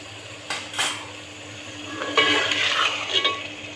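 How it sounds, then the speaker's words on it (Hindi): Keema with yogurt being stir-fried for keema matar, with a couple of sharp spoon clanks against the pot followed by louder scraping stirs over a bubbling sizzle, close up and without talking. "तो अब दही डाल के भूनेंगे पहले हम और फिर टमाटर डाल के भूनेंगे"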